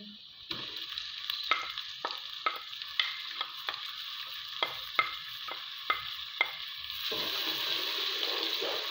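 Browned onions with tomatoes and chillies fry in a pan, a steady close sizzle with a series of sharp spatula scrapes and stirring knocks, the hiss swelling louder near the end.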